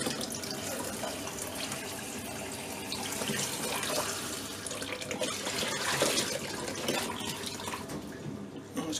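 Water gushing and splashing steadily from an Indesit washer dryer being drained during a repair for not drying, a continuous broadband rush that swells midway and stays loud throughout.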